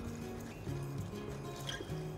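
Water is poured into a glass already holding espresso and ice for a hangover remedy, giving a soft trickling fill that runs steadily for about two seconds over a low background hum, with no talking.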